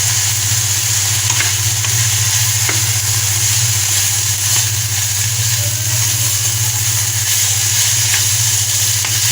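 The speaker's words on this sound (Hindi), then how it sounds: "ये देखें, थोड़ा सा हम इसे भूनेंगे" Spiced minced meat, beef or mutton, is fried for shami kabab in a little oil, giving a loud, steady sizzle with a low continuous hum underneath and a few faint spoon scrapes, without any talking.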